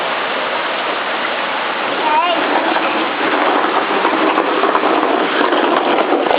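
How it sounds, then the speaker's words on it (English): Steady, dense rain pours outdoors, a constant loud hiss that fills the whole stretch without letting up. "Aiden, go out in the rain now."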